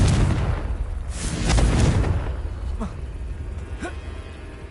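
Blasting-spell explosions in a Harry Potter video game: a loud booming burst swelling and fading over a few seconds, followed by a couple of sharper distant pops over continuous game noise.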